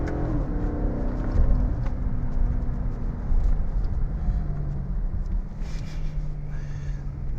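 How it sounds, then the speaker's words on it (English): A 2009 Maserati GranTurismo S engine in sport and manual mode rumbles loudly and revs up steadily, a continuous throaty roar with no talking. "I'm going to give it a little gas and show you guys what it can do."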